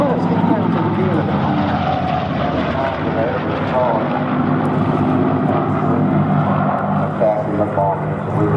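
Vintage warplane engines, including a B-17 and Mustangs, droning steadily at Duxford airfield, a continuous loud propeller roar with someone speaking over it throughout.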